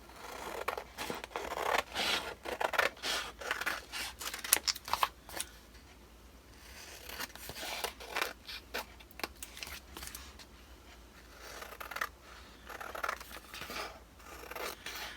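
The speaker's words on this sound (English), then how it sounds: "So I'll cut that one out." Scissors cutting out an index card, a run of quick crisp snips and paper rustles in bursts, close and fairly loud with brief pauses between cuts, no talking.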